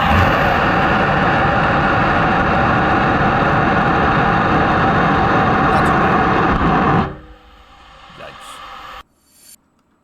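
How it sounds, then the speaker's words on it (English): The Miranda rocket engine roars during a hot-fire test on a multi-bay engine test stand, with a truncated nozzle. The blast is loud, steady and broadband for about seven seconds, then cuts off to a quieter fade and silence. "the first Miranda hot fire in our brand new multi-bay engine test stand"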